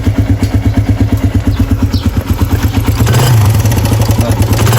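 A carbureted Suzuki Raider 150 motorcycle engine runs loud and close, idling with a steady rapid chugging pulse, then briefly revving with a rising tone.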